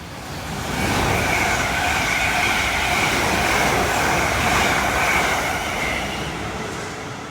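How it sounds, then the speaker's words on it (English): A train on the South Western Main Line rumbles into Fleet station and grows louder, its steady roar and rattling wheels holding near, then easing off slightly as it slows. "Just film the arrival of this train."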